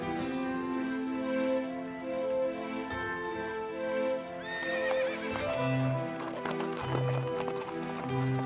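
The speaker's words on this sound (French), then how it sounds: "Les 2 chevaux, excités par le sifflement de leur conducteur, s'élancèrent au galop" Two horses gallop while pulling a carriage, their hooves clip-clopping in a quick rhythm with whinnies, set under a swelling orchestral score that grows busier partway through.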